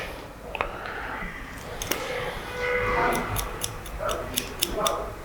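Scissors snip the sides of medium-length hair during a 90s-style haircut, producing a quick run of crisp, faint clicks in the second half after a few isolated snips.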